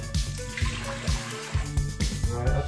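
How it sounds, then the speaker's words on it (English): Water is poured into the basin of a Fissler pressure cooker while making porridge, a close, continuous splashing trickle with small gurgling surges and no voices. "we'll put some water in the basin"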